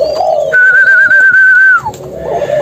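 Hand-fed Malaysian pigeon chicks beg for food up close with a long, steady, piercing whistle that bends down at the end, framed by lower rasping coo-like calls.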